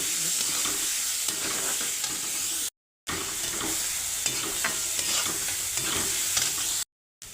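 Onion frying in hot oil in a kadhai for a potato curry, a loud, continuous sizzle with frequent stirring scrapes, interrupted by two short silent gaps.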